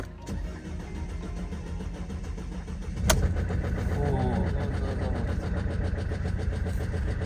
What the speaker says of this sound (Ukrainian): Заводиться, але підтрусює і підкалатює, і чек світиться.